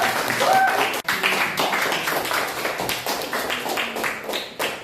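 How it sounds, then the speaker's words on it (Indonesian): Applause for a presenter at a social work teacher training session at a university in Indonesia, a dense round of clapping from a room of people filling the whole stretch, fairly loud and steady with some talk mixed underneath. "tepuk tangan untuk Pak Riz."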